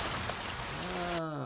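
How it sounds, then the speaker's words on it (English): Rain patters steadily on trees in a dense, even hiss close by, with a soft tonal sound creeping in before the rain cuts off abruptly near the end. "Here's another sound of the rain. The rain falling on the"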